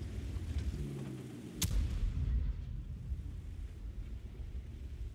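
A single sharp gunshot bursts out in the game Sandbox, followed by a rumbling, crackling tail over steady low background noise.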